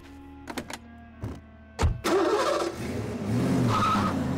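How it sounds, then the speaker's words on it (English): A noisy tractor towing a car gives a few separate mechanical clunks, then a heavy thud, before the engine settles into a loud, continuous rumbling drone. "use that noisy tractor of yours to tow my car"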